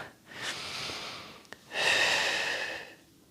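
Two deep breaths during a runners' stretching and recovery session: a long inhale, a short catch, then a louder, fuller exhale, close and clear with no talking.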